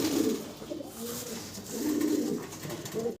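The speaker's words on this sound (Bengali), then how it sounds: "খুব সুন্দর আরো এক জোড়া কবুতর, জার্মান শিল্ড" German Shield pigeons cooing at a pigeon farm, soft repeated low coos that come in several close phrases, fairly near and quiet, with no talk over them.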